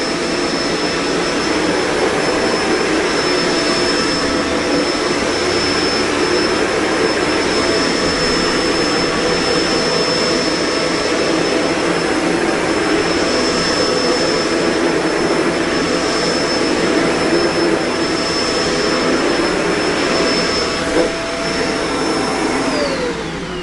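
A Kenmore Intuition bagged upright vacuum runs steadily over carpet, a loud constant motor whine with airflow roar that holds for the whole stretch before a slight pitch drop at the end.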